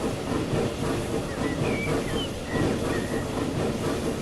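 A train in the Transport Fever 2 railway game rolls along steadily with a rumbling, clattering wagon noise and brief hissing squeals, loud and continuous, with no talk.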